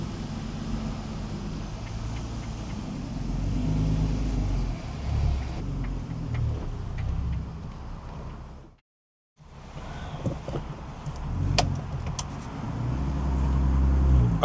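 A Volkswagen Scirocco with a swapped-in R32 engine drives around the block, its steady engine and road rumble loud inside the cabin, with wind noise and a brief dropout midway.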